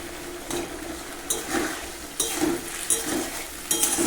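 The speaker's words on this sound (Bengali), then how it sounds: "ভালো করে নেড়ে চেড়ে কষিয়ে নিতে হবে" Turmeric and salt being stirred into a vegetarian chana dal curry in a pan, with soft scraping strokes and a gentle sizzle in irregular bursts, close and moderately quiet, no voices.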